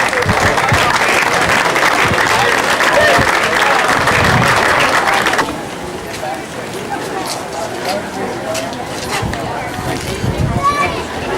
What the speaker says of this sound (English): I think we should give them one more round of applause